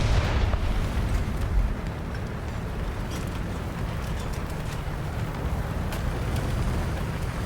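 An American tank destroyer blows up from an overpressure blast in War Thunder, a heavy, deep boom at the start that fades into a sustained rumbling roar.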